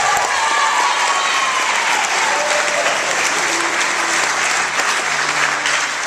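Loud, sustained applause from a crowd at a club meeting, honoring two youth soccer players, dense steady clapping that fills the whole stretch with faint voices underneath.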